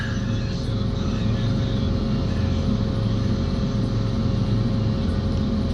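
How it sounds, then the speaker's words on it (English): Truck backing in beneath a tree-delimbing machine at a logging job set up in a front yard: a continuous, fairly close diesel rumble with a faint steady whine, no voices. "Got a truck backing in under us"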